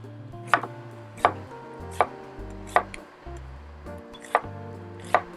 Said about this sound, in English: we're going to slice up our onions